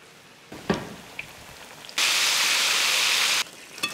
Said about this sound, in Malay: Okay, once minyak dah panas, kita boleh goreng.